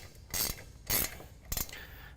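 A 1/2-inch wrench tightening a bolt on a Pioneer rotovator being assembled, giving three short metallic ratcheting clicks spaced a little over half a second apart, close and crisp against a quiet background.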